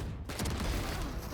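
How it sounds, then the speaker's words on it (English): Gunfire in a Valorant competitive match, a dense burst of shots and booms filling the whole short stretch at steady loudness, with game noise around it. "He hears the gunfire."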